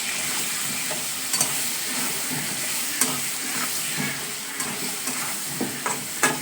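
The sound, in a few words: green chillies and turmeric frying in a pan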